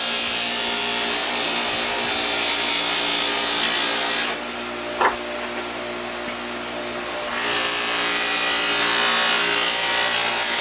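A Harbor Freight 61557 polisher buffs a dull pinball pop bumper, giving a steady, loud whirring drone that dips in the middle and has one brief knock, then resumes at full level with no talking.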